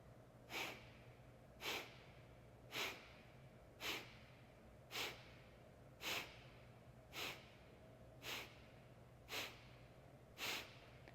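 Kapalabhati pranayama breathing: ten sharp, forceful nasal exhales at a steady rhythm about one per second, each a short puff with passive inhales between, close and fairly quiet over a low steady hum.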